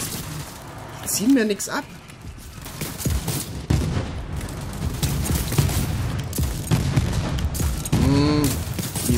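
Repeated gunfire in Borderlands 3 sounds in dense bursts of rapid shots and heavy impacts across the whole stretch, loud and continuous, while someone talks over it.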